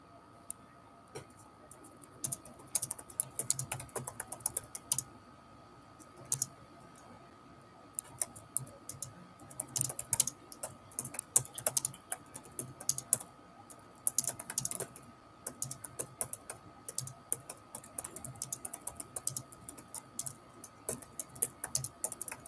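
Typing on a computer keyboard, scattered light clicks and quick flurries of keystrokes over a faint steady hum, fairly quiet and close, with no talk.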